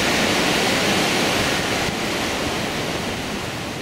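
Ocean surf washes steadily onto a beach in Sri Lanka, a loud, continuous broadband roar heard up close without pauses.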